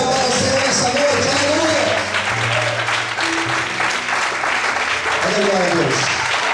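Church congregation clapping during an evening service, dense continuous applause filling the room, loud and close, with a preacher's voice and other voices rising over it.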